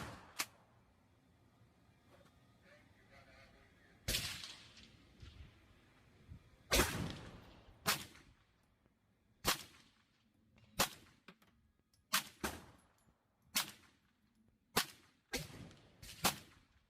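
Kel-Tec Sub-2000 Gen 3 carbine fired at an outdoor range, a dozen or so sharp single reports spaced irregularly, some in quick pairs, each with a short ringing decay over quiet background.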